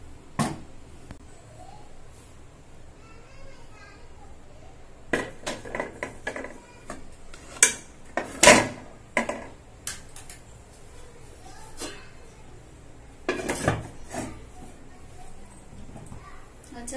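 Metal clinks and knocks come as a cake batter tin is set onto a stand inside a pressure cooker, with scattered clattering bursts over low kitchen background noise.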